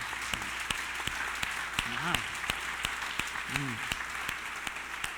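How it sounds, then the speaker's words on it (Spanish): Scattered claps and a steady patter of applause from a church congregation, with brief voices rising over it, moderately close. "Dale un aplauso a papá Dios."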